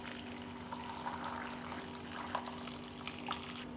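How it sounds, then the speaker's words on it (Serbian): Boiling water is poured into a pot up to the level of its lid, a faint, steady liquid trickle and splash continuing with a few small clinks. "I na kraju ću šerpu napuniti sa vrelom vodom do visine poklopca."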